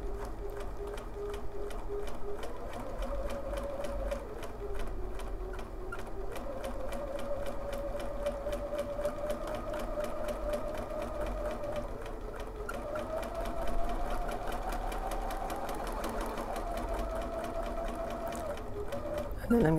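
A long-arm sewing machine hums and ticks rapidly and continuously while couching thread to finish an embroidered flower, its motor pitch rising and dipping as speed changes, close and steady throughout.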